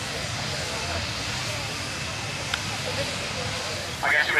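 Steam traction engines at an outdoor showground, a continuous broad hiss of escaping steam with a low rumble underneath, steady throughout and fairly loud, with a faint short tone near the end.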